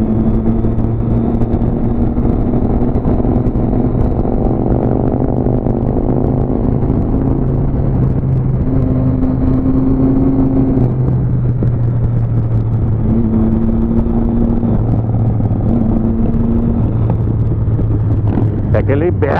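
A Harley-Davidson motorcycle engine rumbles with a deep, steady idle and shifting throttle tones heard outdoors against wind noise, with voices talking over it throughout.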